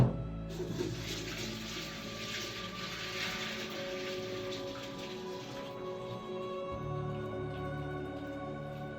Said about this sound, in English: So we're gonna pour out almost all of this water.